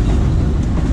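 Thall Express passenger train running on rails, a loud continuous rumble with low thuds of wheels over rail joints, heard from inside the moving carriage with no talking.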